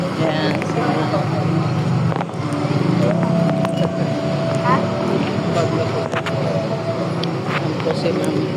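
A motorcycle carrying passengers on Boracay runs with a steady, close engine rumble and constant wind rush, while people talk over it.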